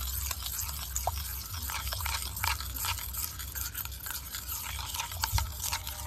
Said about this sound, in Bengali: টোটাল 2 চামচ কোকো পাউডার দিলাম। এবারে ভালো করে এইভাবে মিশিয়ে নেব।